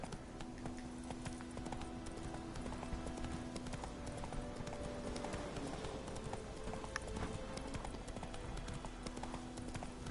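Galloping horse hooves clip-clop in a steady rapid rhythm as a rider travels in a Witcher video game, accompanied by soft game ambience and tones, with no talking.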